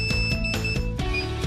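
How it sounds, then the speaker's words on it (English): A DJI Inspire 2 remote controller beeping while it links to the aircraft, giving steady repeated electronic tones in a fast rhythm, loud and close. "When the remote controller starts beeping,"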